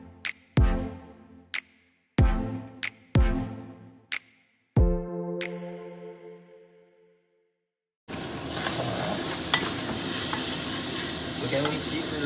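Meat frying with onions and carrots in a pan, a steady close sizzle that starts abruptly after several sharp ringing metallic taps, with no talking during the frying.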